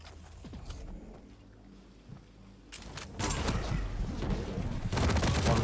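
Railgun and rocket launcher fire in a Quake match, with sparse sharp shots at first and then a sustained loud barrage of blasts and explosions building toward the end.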